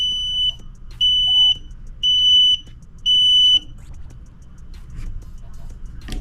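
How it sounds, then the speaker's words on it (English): A HULKMAN Sigma 1 battery charger sounds an alarm for a dead cell: four sharp, high electronic beeps in an even rhythm, each about half a second long, with quiet gaps between them and faint background noise. "And the alarm is going off."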